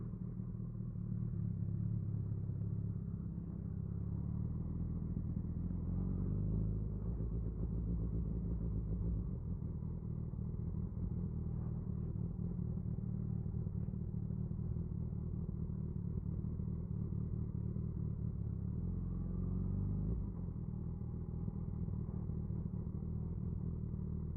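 Motorcycle ride heard from inside an HJC V10 helmet: a steady, heavy low engine rumble mixed with wind roar runs throughout, with no speech.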